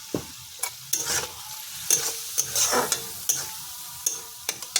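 Kakrol (spiny gourd) stir-fried in a pan for a vegetarian dish, with a steady sizzle broken by sharp, repeated scrapes and clacks of a spatula against the pan, close and fairly loud.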